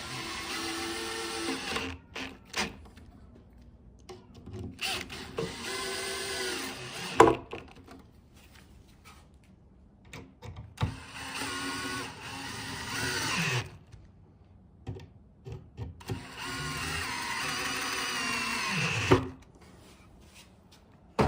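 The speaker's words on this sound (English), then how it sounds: "And drill them in." Four separate bursts of a power drill whirring as screws drive into the wood of a rocking chair being assembled, each lasting a couple of seconds, separated by quiet pauses with small handling knocks.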